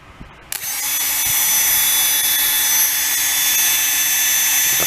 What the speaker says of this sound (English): A pretty fast little motor. So it'd be great for hobby use.